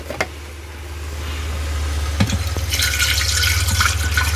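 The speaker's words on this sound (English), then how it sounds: "So I'll pour my water in my coffee pot." Water gurgles and splashes as it pours into a coffee pot in a small mobile living space, starting faint and swelling into a steady running fill with a few clinks.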